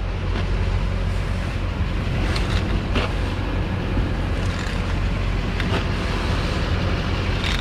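A towed-in Jaguar XS rolls into a repair shop under its own fading power, a steady low engine rumble and rushing wind-like noise sitting close to the microphone with occasional faint knocks.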